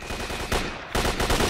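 Hunting shotgun firing in S.T.A.L.K.E.R. Shadow of Chernobyl, with two loud, sharp blasts about half a second apart and a heavy boom after a brief gap.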